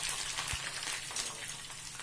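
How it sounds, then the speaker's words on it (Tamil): Paneer cubes frying in a little oil in a frying pan give off a steady, soft sizzle that holds through the whole stretch, with no voices. "பன்னீரை எண்ணெயில் சேர்த்துட்டு 1 நிமிஷம் அப்படியே விட்டுருங்க."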